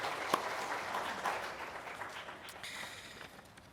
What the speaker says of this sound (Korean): 우리가 박수를 한번 드리도록